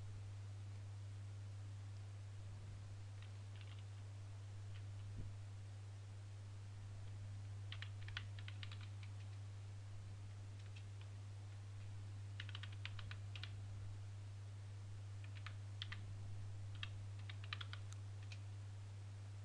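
Someone typing a command on a computer keyboard in quick, soft clusters of key clicks, separated by short pauses, over a constant low electrical hum, with no talk.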